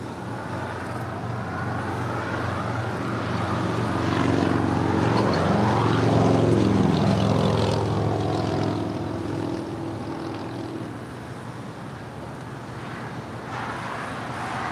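A Korean Air heavy airliner taxiing at LAX gives off a continuous low engine rumble and whine that swells to a peak midway, then eases back to a steady drone.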